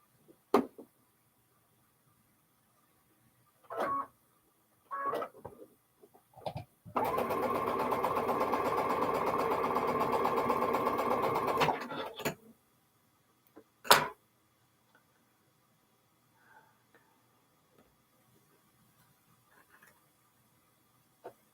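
A home sewing machine runs a steady five-second burst stitching quilt block triangles, framed by scattered clicks, handling bumps and one sharp knock, then near silence.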